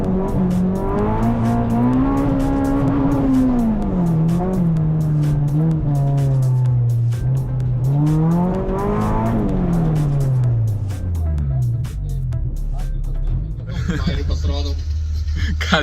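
Rear-wheel-drive cars running a slalom course in a church courtyard, engines revving and rising and falling in pitch as they accelerate through the turns, with someone talking over the noise.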